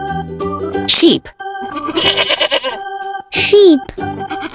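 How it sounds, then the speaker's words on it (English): A sheep gives two loud, wavering bleats, separated by a pause, close and clear over a constant musical backing. "sheep,"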